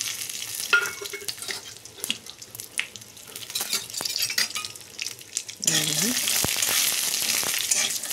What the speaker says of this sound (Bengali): বাদামটাও আমি ঘির মধ্যে ভাজিয়ে নিচ্ছি